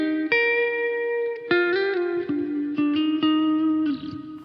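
An electric guitar plays looped single notes and short melodies through reverb and delay, each plucked note ringing out clearly and sustaining with a wash of echo behind it, close and alone.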